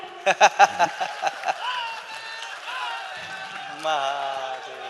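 An audience at a live concert stage show in Varanasi claps in a quick rhythmic burst of about seven claps, then voices and music carry on with no further clapping.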